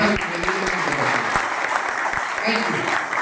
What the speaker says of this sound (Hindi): मैं चाहता हूँ अब तक की सबसे जोरदार तालियां आप अपने लिए बजाइए